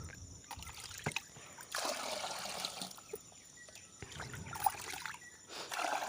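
Rice-washing water, mixed and poured onto potted plants, running out in a soft splashing trickle that comes in two or three uneven bursts with gaps between them.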